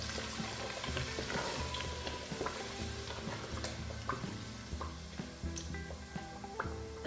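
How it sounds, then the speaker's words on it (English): Food frying in a pot is stirred, giving a continuous close sizzle with soft scraping strokes and occasional clinks of the spoon against the pot, no voices. "Then I will stir."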